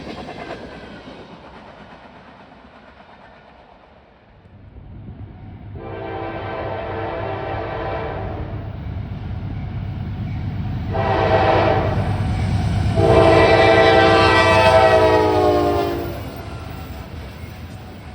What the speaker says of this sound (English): 1071, the Central Railroad of New Jersey Heritage Unit, in striking orange and blue